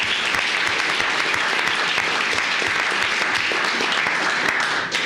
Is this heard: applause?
yes